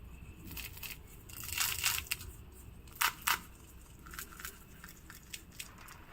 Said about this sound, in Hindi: पहले आप इन कचौड़ियों की आवाज़ सुनिए।